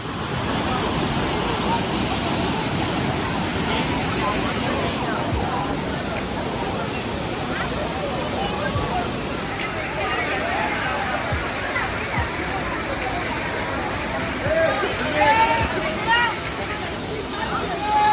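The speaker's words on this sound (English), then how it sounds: "You just go down to the place where the water falls" Continuous rushing roar of Vibhuti Falls in Uttara Kannada, India, fills the scene, steady and close, with faint voices and splashing mixed into the wash.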